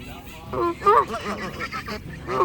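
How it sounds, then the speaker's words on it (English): At a farm animal swap and sale in Waverly, Iowa, a goose gives several short, nasal honks close by, mixed with a person talking and general crowd murmur. "It's a goose."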